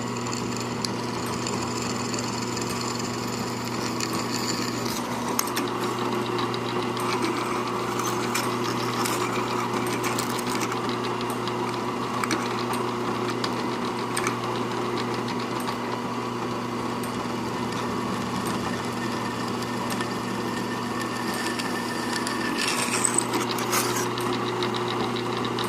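A power drill bores three holes through thin sheet metal at a vise while replacing an RV step switch; a steady, continuous motor whine and grinding hum runs throughout, close and fairly loud, with no speech.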